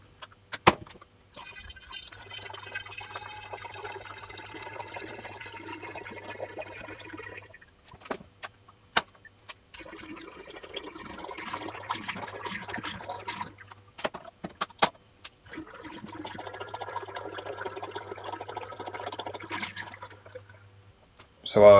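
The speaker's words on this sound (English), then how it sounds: "I'm gonna crack open the fruit juice and pour all three of these cartons into the demijohn." Fruit juice glugs steadily from cartons through a funnel into a demijohn in three separate long pours, each a trickling, gurgling stream broken by brief pauses.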